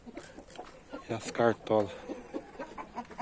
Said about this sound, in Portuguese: o filho dele dando a catar as galinhas